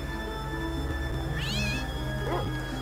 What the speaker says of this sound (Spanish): el perrito va detrás del gato